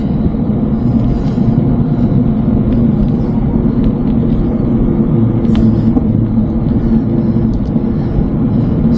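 Traffic on an Australian road, a continuous loud rumble of cars passing near the microphone, steady road noise with occasional brighter tire and engine swells, no talking.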